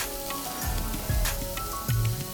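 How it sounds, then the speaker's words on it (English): Steady hissing sizzle of seekh kebabs frying on a hot tawa, with occasional low scraping or clinking sounds and no talking. "You can still hear the others sizzling on the tawa."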